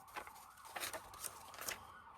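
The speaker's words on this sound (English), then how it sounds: "Wouldn't be my video unless there was a million sirens" Emergency vehicle sirens sound outside, faint and distant, with a wavering wail and a few brighter pulses rising over a quiet background.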